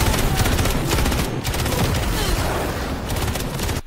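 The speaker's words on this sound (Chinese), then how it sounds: "就在这时，街道上传来枪声" A street battle in the Halo TV series, with rapid bursts of gunfire crackling over a loud, dense, rumbling combat mix that runs almost unbroken, with brief dips.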